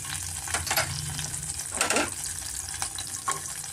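Asafoetida and ginger frying in a tempering over a medium flame for khara rava pongal, a steady crackling sizzle with several scraping stirs, close and without talk.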